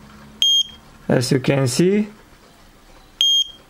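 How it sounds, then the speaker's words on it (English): A homemade short-range metal detector's buzzer sounds in two brief, sharp beeps as metal nears its coil, with someone speaking between them. "when I get really close to the coil, the LED and the buzzer are turning on"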